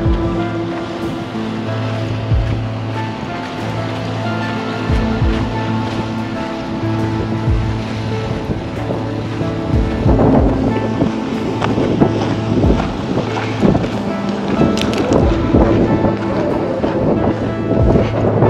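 A boat coming in on open water near Salem lighthouse in New England, a low steady engine drone under continuous wind buffeting and lapping waves, growing rougher toward the end.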